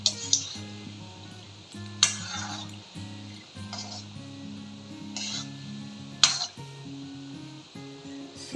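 Kala jamun balls fry in hot oil over gentle heat, with a quiet bubbling sizzle and occasional sharp utensil clinks, while music plays in the background.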